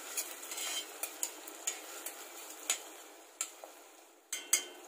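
A spoon scrapes and taps against a pot in a steady rhythm while chopped onion sizzles quietly underneath, heard up close.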